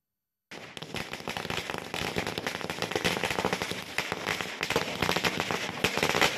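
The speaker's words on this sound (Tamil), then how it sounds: "இதனை கிராம மக்கள் பட்டாசு வெடித்து இனிப்புகள் வழங்கி கொண்டாடினர்" Villagers set off firecrackers to celebrate a newly opened ration shop, a dense, continuous string of sharp crackling bursts that grows louder and keeps popping without pause.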